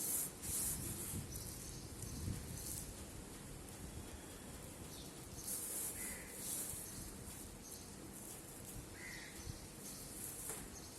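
Unsieved moulding sand is worked by hand with soft, continuous rubbing and grainy scraping that swells and fades, close and quiet, with a few faint higher chirps in the background and no talking.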